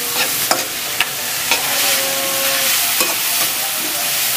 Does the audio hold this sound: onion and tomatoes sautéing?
yes